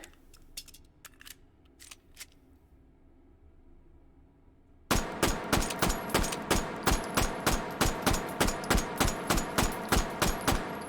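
A Bergmann No 5 pistol in H3VR, fired without a suppressor: a rapid string of sharp, loud, evenly spaced shots, about twenty, begins midway after a few faint clicks and handling taps.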